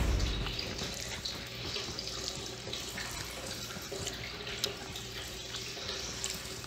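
Water sloshing and splashing in Call of Duty Mobile battle royale, a steady wet running wash that holds level throughout with small surges, no voices.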